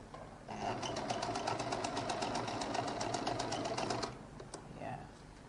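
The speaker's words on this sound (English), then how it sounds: "So I'll now turn this, stitch this one down" A sewing machine stitches down a seam on a lady's jacket, running steadily with a fast, rhythmic mechanical chatter for about four seconds before stopping, followed by a few faint handling sounds.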